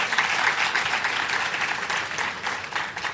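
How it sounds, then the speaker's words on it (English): Dense, sustained applause fills a hall at a graduation ceremony for special education needs teachers, a steady wash of many hands clapping without any break. "whoever did this deserves a round of applause"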